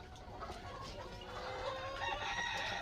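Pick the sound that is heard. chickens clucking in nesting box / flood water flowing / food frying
chickens clucking in nesting box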